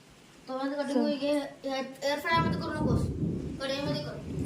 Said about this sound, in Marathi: पाऊस चालू होता